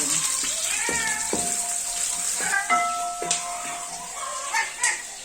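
A cat meows several times in short cries over a sizzling, hissing background, with a faint voice now and then.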